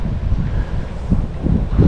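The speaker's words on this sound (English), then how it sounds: "We got clouds rolling through, we got wind" Gusty wind buffets the microphone beside a lake during a bass fishing outing, a steady low rumble that swells in stronger bursts toward the end, with no voices.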